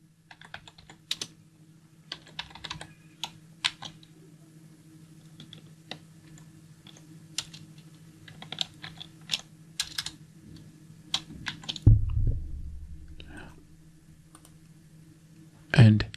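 An SSH command being typed on a computer keyboard: a run of quick, irregular key clicks close up, with a louder thump near the end.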